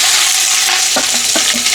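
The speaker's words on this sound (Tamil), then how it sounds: "இப்போ நான் வெங்காயம் ஆட் பண்ண போகிறேன்." Onions tipped into hot oil with curry leaves and whole spices for a chicken biryani, giving a steady close sizzle with a few stirring scrapes near the end and no voices.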